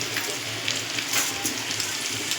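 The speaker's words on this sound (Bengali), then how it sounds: "দিয়ে এটাকে আমি ভালো করে ভেজে নেবো, যাতে কাঁচা মশলার গন্ধটা না ছাড়ে।" Vegetables with spices sizzle and fry steadily in a pan, a continuous close hiss of hot oil with small crackles and no voices.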